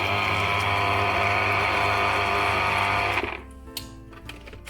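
Electric mixer blending lemon juice, a loud steady whirring drone that runs for about three seconds, then cuts off abruptly, leaving faint clatter and quiet room sound.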